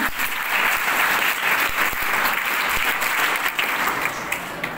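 Audience clapping at a Diwali celebration program, a sustained, fairly loud wave of applause lasting throughout with no talk over it.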